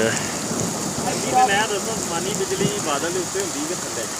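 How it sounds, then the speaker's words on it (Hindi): Heavy stormy rain pours steadily with gusty noise on a mountain campsite, while a person speaks over it in a few short phrases. "बड़ी तूफानी बारिश हो रही है, मोबाइल सारा भीग रहा है।"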